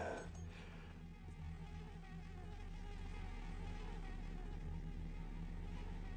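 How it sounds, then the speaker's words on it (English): Mosquitoes buzz in the stealth video game Thief, a constant whining insect drone that holds steadily for several seconds with no talking over it. "mosquitoes."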